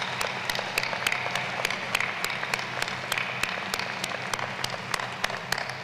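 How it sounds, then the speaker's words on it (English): At a university doctoral hooding and master's recognition ceremony, the audience applauds a graduate with dense, even clapping that fills a large hall at moderate level, with no voices over it. "How about a round of applause for her?"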